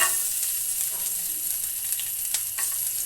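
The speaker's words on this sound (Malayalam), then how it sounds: "ഇതൊന്ന് ജസ്റ്റ് ചൂടാക്കി എടുക്കണേ ഒന്ന് വറുത്തെടുക്കുക" Small cut pieces of coconut frying in hot oil in a pan, a steady close sizzle and hiss with occasional light crackles, no talking.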